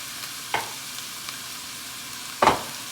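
Sloppy joe mixture with ketchup is stirred in a pan over a low sizzle, with two distinct clanks of a utensil against the pan, one early and a louder one near the end.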